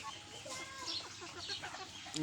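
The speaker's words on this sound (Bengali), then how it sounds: "আর এই যে একটি সোনালী মুরগি।" A Sonali hen clucks on a small backyard chicken and duck farm. Several short, quiet clucks come close together over about two seconds, with a louder call at the end.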